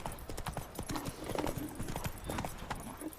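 Hooves of a horse named Roach clip-clop at a steady rhythm as it moves through Toussaint in the video game The Witcher 3 Next-Gen, with close, continuous hoofbeats and no talk.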